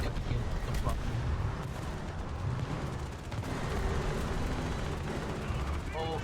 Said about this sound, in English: Somebody firing? Oh wait, somebody's firing.